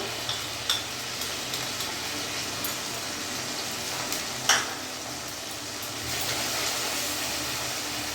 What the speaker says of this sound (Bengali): এবার আমি ভালো করে কষিয়ে নেব মশলার থেকে যতক্ষণ না কাঁচা গন্ধটা আমার যাচ্ছে